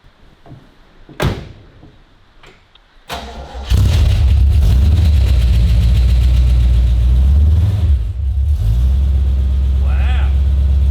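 An HQ Holden's engine cranks and fires up after a few clicks and knocks, then settles into a loud, deep, rumbling idle through a new custom exhaust, bassy and close, with a voice briefly heard.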